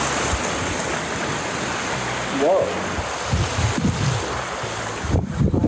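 Pacific Ocean waves wash steadily along the shore with gusty wind buffeting the microphone, a continuous broadband surf roar beneath a brief exclamation from a person.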